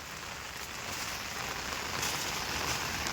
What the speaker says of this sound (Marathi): पाऊस पण पडतंय